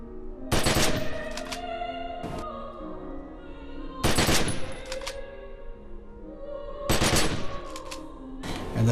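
Burst fire from a ranged weapon ability in The Secret World, three loud clusters of rapid gunshots spaced a few seconds apart, each trailing mechanical clicks and a ringing tail.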